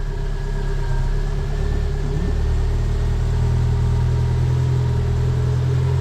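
A Renault Clio 3 RS engine idling steadily, then held at a slightly raised 1500 RPM, a close, loud, constant rumble with no talking.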